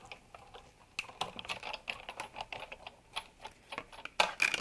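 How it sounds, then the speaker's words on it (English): Sizzix Big Shot embossing machine cranking damp paper through a 3-D embossing folder, giving a close, steady run of sharp clicks and ratcheting ticks that grow louder near the end, with no talking. "I'm going to go ahead and roll that through my Big Shot machine."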